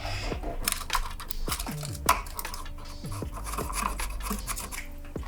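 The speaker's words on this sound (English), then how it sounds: "I was just wiping it up real quick" Close, quiet rubbing and scrubbing as Ford Explorer engine parts are wiped clean during an EVAP leak repair, in short repeated strokes under a steady background hum.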